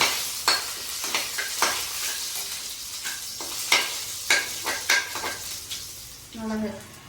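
Garlic and ginger sauté in a hot pan with a steady sizzle, while a spoon scrapes and clatters against the metal in repeated strokes, with a brief sharper clink near the end.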